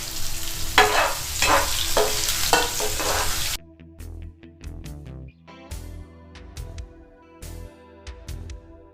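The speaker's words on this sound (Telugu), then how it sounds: "ఉల్లిగడ్డలు, పచ్చిమిర్చి, ఇవన్నీ ఎర్రగా అయ్యే వరకు కలుపుతూ ఉండాలి" Chopped onions and green chillies stir-frying in a hot pan for a gherkin dish, a loud steady sizzle with stirring scrapes, then quieter spaced clinks and taps of the spoon against the pan.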